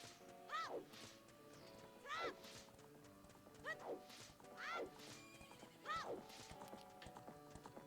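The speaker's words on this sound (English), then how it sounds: "Very confused horse" A horse in the Ocarina of Time video game whinnies in a repeated, identical call, five shrill neighs roughly one to two seconds apart over quiet game sounds.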